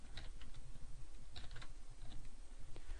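Typing on a computer keyboard: rapid, irregular key clicks in quick bursts, close and clear, with no talking.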